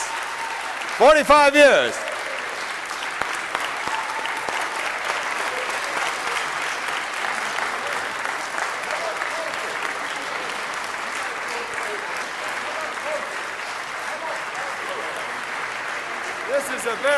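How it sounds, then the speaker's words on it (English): Sustained applause from a Los Angeles City Council audience honoring a retiring city employee, steady and full throughout, with a voice speaking briefly near the start and the clapping continuing on its own. "Big round of applause."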